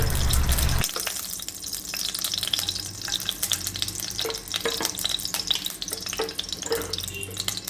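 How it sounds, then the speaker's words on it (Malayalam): Two spoons of ghee heat in a hot pan, making a soft, continuous sizzle and fine crackle after a brief louder start, close but fairly quiet, with no talking. "അതിലേക്ക് ഒരു 2 സ്പൂൺ നെയ്യ് ഒഴിച്ച് കൊടുക്കാം"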